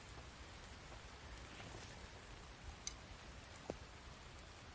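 Steady light rain falling outdoors, a soft continuous hiss with a couple of faint distinct drips or ticks.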